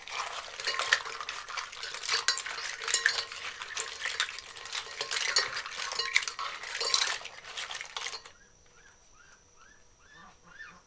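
A seafood marinade of squeezed lemon juice and thin ginger slices stirred by hand, with busy clinking and scraping of utensil against bowl for several seconds before it fades to faint, scattered sounds.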